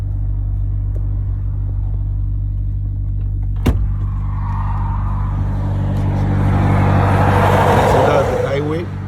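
Highway traffic near a crowded truck parking area at an ESSO station in Beveren, Belgium, rumbles steadily from a nearby idling truck, with a passing vehicle swelling louder toward the end and someone speaking briefly.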